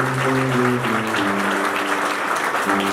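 Wedding guests applauding together, a dense, steady clapping that fills the room throughout, loud and close.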